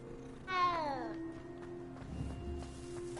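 A cat in the Hogwarts Legacy video game gives a single clear, rising-then-falling meow, close and distinct, followed by quieter game ambience and light clicks.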